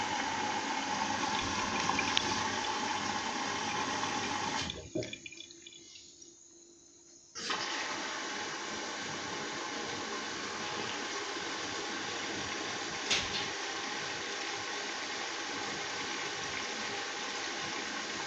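A washing machine on a 40-degree synthetics eco program fills with water, a steady rushing flow that cuts out briefly for about two seconds before resuming, loud and continuous with no voices.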